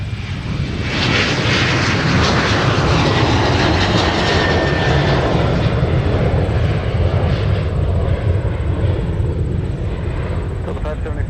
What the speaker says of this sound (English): So it looks like we got an overflight here.